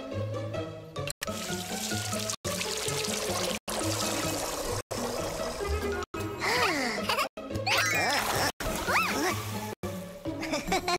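Water from a cartoon firefighter's hose pours and splashes into an empty pool, a steady rushing stream broken by brief gaps, with a voice and playful music over it.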